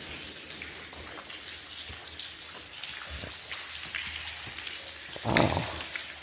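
Water leaks and drips inside an abandoned highway tunnel in Pennsylvania, scattered faint drops and trickling splashes echoing softly, with one louder splash near the end.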